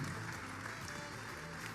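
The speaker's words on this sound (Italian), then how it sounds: "Un applauso collettivo per tutti e tutte." A studio audience at a hospital talent show claps together in a steady, fairly faint wash of applause that continues unbroken.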